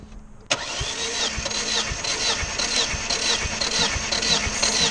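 A Volvo engine cranks on its starter with the throttle held wide open during a compression test, a loud, steady rhythmic churning with regular pulses, starting abruptly after a brief quiet moment.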